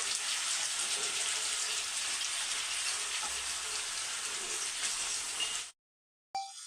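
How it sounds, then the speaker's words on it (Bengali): Chicken pieces fry in oil left from frying onions, a steady close crackling sizzle that fills most of the clip before a short silence and a brief return. "এবার পেঁয়াজ ভাজা তেলের মধ্যেই মাংসগুলোকে হালকা করে ভেজে নেব।"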